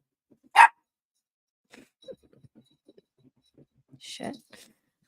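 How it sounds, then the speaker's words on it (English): A playful pet dog gives one loud, close bark, then scattered soft clicks and shuffling follow before a second, rougher bark-like burst near the end. "Like he just started this barking thing."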